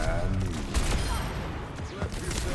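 Dense video game gunfire as several players shoot at one opponent, a continuous rattle of overlapping shots mixed with a commentator's voice.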